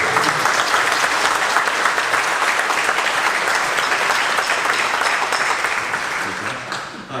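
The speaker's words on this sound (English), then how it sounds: "How about a round of applause for yourself?" A large audience at a high school winter band concert claps warmly and continuously, a thick steady wash of applause that tapers off slightly at the very end.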